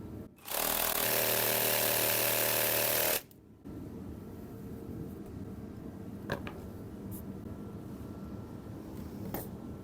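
A power saw screams through a long cut in the plywood flooring of a DIY Ram ProMaster camper van build, loud and steady for about three seconds, then stops abruptly, leaving low room noise and a few faint knocks.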